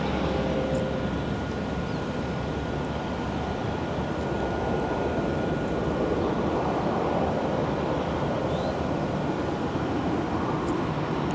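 A Breeze Airways jet at Raleigh-Durham International Airport makes a steady, broadband roar heard from a distance, holding at an even level throughout with no talking.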